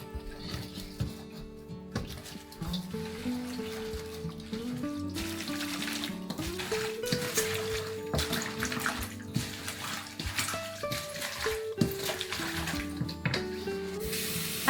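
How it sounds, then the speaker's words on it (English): Fresh water pours steadily into a basin of chives being washed in a rural Chinese home kitchen, a continuous close splashing stream with soft music playing underneath. "Pouring in some fresh water, I watch the chives open up in the pool"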